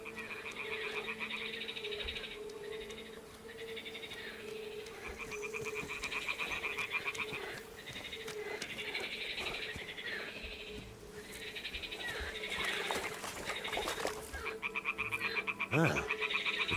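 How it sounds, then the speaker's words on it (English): Toads croak in the video game Kingdom Come, a close, continuous chorus of repeated rasping calls layered over one another, rising and falling slightly in loudness with no speech. "The toads are croaking here."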